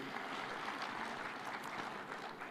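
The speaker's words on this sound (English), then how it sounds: "Another round of applause for Waziri." Steady applause from a crowd, a dense wash of clapping heard from a distance at low volume throughout.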